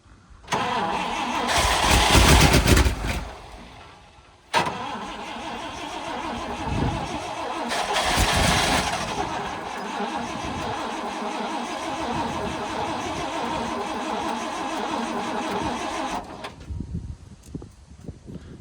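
An old International Acco 4x4 truck's engine cranks loudly for a few seconds, stops, then cranks again and catches into a steady running rumble that carries on to the end, with a brief quieter stretch near the close.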